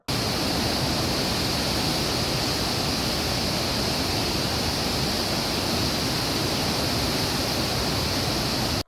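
Water released from the Vatrak reservoir at Malpur roars steadily as a dense, loud, unbroken rush with no voices.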